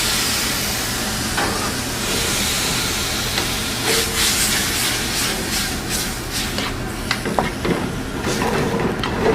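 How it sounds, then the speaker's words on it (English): Two cups of chopped tomatoes with their juice go into a hot pan for a shrimp and andouille dish, giving a steady, close hiss of sizzling that runs throughout with a few brighter crackles toward the end. "2 good cups of chopped tomato that we're now going to add with its juice"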